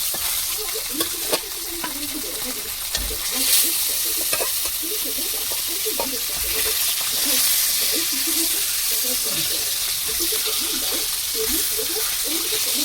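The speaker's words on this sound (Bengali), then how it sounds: "কড়া গরম, তেল গরম হয়ে গেছে, দিয়ে দেবো মাছটা ভালো করে ভেজে নেব।" Rohu fish pieces frying in hot oil in a pan, with a steady sizzle throughout and occasional stirring clinks and scrapes, close and continuous with no talk.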